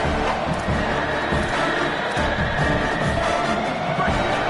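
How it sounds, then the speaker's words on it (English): Stadium crowd at an Illinois college football game roars continuously, a dense loud wash of cheering and yelling from a large audience. "this crowd trying to help keep them there"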